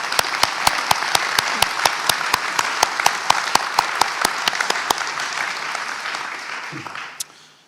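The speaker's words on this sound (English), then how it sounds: "Let's give all these people a round of applause," Sustained audience applause at a fire academy graduation ceremony, a dense wash of many hands clapping for about seven seconds alongside a steady run of sharp, regular percussive clicks, then tapering off at the end.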